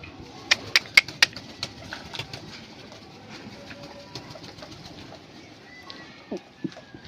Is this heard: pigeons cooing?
yes